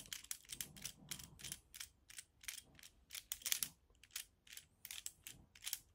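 An Insta360 bike mount clamp being loosened gives a series of quick, close ratcheting clicks in an irregular rhythm, with no voices.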